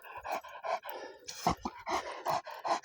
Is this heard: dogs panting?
yes